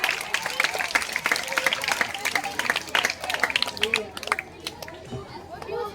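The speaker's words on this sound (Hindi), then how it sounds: "हमारे इस टैलेंटेड प्रतिभागी के लिए एक बार जोर से" Scattered clapping from a school crowd at an Independence Day cultural program, cheering a student performer, mixed with chatter and children's voices and fading toward the end.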